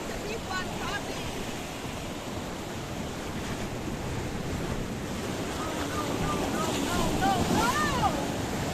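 Sea waves breaking along the Paphos coastal pathway, a steady loud wash of surf and wind buffeting the microphone, swelling toward the end as a bigger wave arrives.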